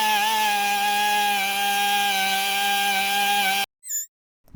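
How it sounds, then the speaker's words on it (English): An air-powered angle grinder works on a 1977 Corvette power steering cylinder, a steady high whine held at constant pitch for several seconds before cutting off abruptly, followed by a brief spin-down burst. "I'm using an air-powered angle grinder for this"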